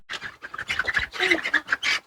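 Chickens squawk and cluck in rapid, close bursts while being put into a coop, a short loud flurry of overlapping calls with no speech.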